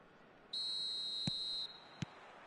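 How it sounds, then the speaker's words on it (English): Referee's whistle blowing for kick-off in an eFootball video game match: one long, shrill, steady blast, followed by a short second toot, clear over quiet crowd ambience. "There's the whistle."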